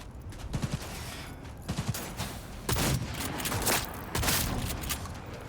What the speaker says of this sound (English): Let's try out my new shotgun.